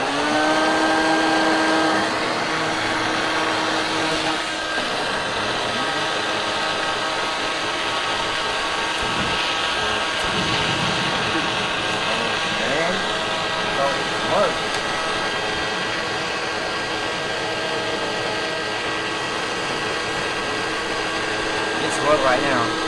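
An air motor hooked to a gasoline-fuel cooking setup runs with a continuous, even mechanical whir and hum, holding steady close by for the whole stretch with faint fluctuations.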